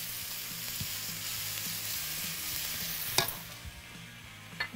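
Onion and bell pepper stir-frying in a pan, a continuous close sizzle punctuated by a few sharp scraping clacks of a spoon against the pan, with no talking.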